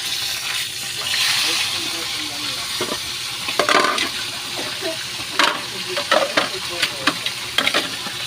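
Galunggong fish frying in a pan on a home stove, a steady close sizzle of hot oil with louder crackles and pops as pieces are stirred and set down.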